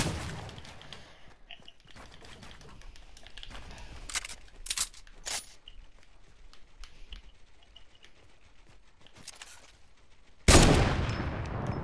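Gunfire in the video game Fortnite, a run of scattered sharp shots and short bursts mixed with keyboard-like clicks, ending in a loud sustained burst, with no talking.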